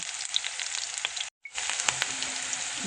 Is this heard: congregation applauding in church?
no